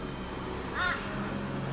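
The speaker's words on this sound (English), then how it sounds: "that's a crow that you can hear calling" A single crow caws once in the distance, a brief harsh call over steady low background noise.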